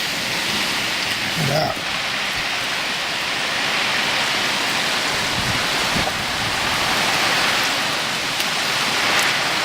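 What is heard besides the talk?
heavy rain downpour outdoors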